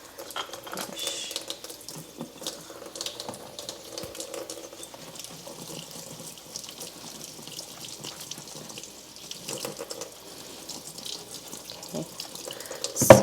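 Tap water runs steadily into a sink while makeup brushes are washed, a continuous close splashing stream with a brief spoken word near the end.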